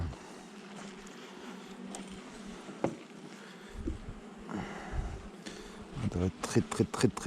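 Honeybees at an open hive in a spring apiary give a dense, continuous buzzing drone close up, with occasional handling knocks and sharper rustles toward the end.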